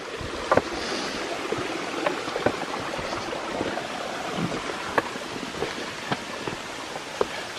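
A creek flows and splashes nearby as someone walks down its rocky, slippery bed at a Tennessee nature preserve, a steady watery rush broken by occasional footstep knocks and splashes.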